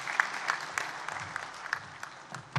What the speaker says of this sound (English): Can we have a huge round of applause for C.P. Chalsa, the Secretary General